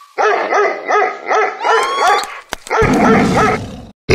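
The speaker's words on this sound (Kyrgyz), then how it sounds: "Бул эмнени үрүп атат?" A dog barking close and loud in a rapid run of repeated sharp barks, with a short gap and a burst of rumbling noise under the later barks.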